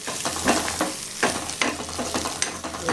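Grated coconut sautéed in a pan, a soft sizzle broken by several sharp scraping stirs at uneven intervals, close and alone without talk.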